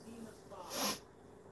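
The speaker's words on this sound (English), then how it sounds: "Oh no, I gotta sneeze." A single sharp sneeze bursts out close by, preceded by a brief breathy intake.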